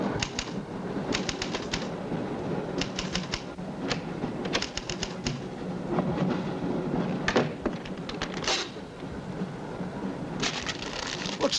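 A moving train in a 1972 film, clattering with bursts of rapid rhythmic clicks from wheels over rail joints over a steady low rumble, continuing throughout at moderate loudness, with no speech.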